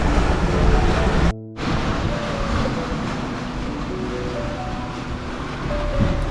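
Steady broadband wash of wind-driven water and surf with lots of white caps, loud and continuous, with a brief dropout early on and low rumbling underneath, on the water in New Zealand.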